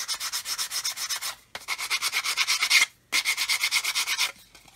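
Sandpaper rubbing back and forth on a plastic scale model part, a close, steady run of rhythmic rasping strokes in three bursts separated by short pauses.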